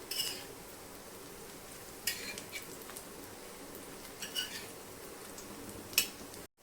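Coriander fritters (kothimbir vadi) shallow frying in a pan give a soft, low hiss, with a few light clinks and scrapes of a utensil as pieces are turned, close and quiet with no talk.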